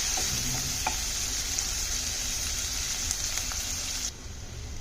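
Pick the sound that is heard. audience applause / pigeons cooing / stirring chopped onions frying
stirring chopped onions frying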